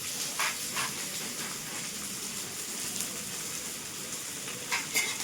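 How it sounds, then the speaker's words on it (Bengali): Onions fry in a pan as a steady, close sizzle with broadband hiss running throughout, with a few brief spattering pops near the start and end, no voices. "এখন পেঁয়াজটার জন্য পেঁয়াজ ভাজা।"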